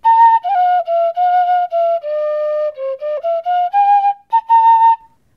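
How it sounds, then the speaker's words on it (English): A fife plays a clear, bright melody of short separated notes that step up and down, loud and close, with no voices. "The second instrument is called a fife."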